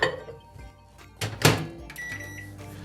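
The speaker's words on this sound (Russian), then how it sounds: "Сливки я убираю в микроволновку для того, чтобы они разогрелись" A microwave oven warming cream for a Prague cake, with a low steady hum, a couple of sharp thunks and clicks in the middle, and the appliance's tone carrying on afterward.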